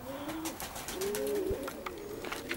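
Domestic pigeons in Perm coo in soft, repeated low calls, close by and moderately loud, over a light background of rustling and faint ambient noise.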